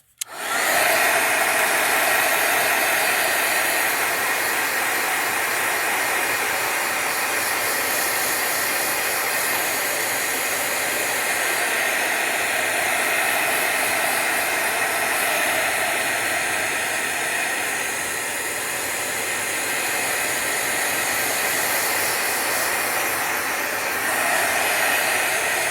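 A heat dryer blows to dry a decorated journal page, a steady loud whooshing hiss starting abruptly and running continuously close up with a slight dip in level partway through, no voices.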